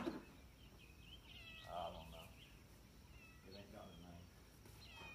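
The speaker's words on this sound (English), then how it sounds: "What's your kitty's name?" A kitten meows a few times, short and faint, beside a cattle trailer amid quiet farmyard background noise.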